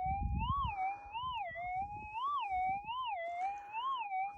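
A Minelab GPX 6000 gold detector gives a continuous target signal tone that wavers up and down in a siren-like warble over a soft low rumble of handling and wind, steady and close, with no talking.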